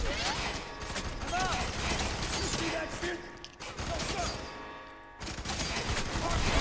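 Enemy gunfire in FEAR 3 rattles in dense bursts at mid distance, mixed with other game effects and a brief lull near the end.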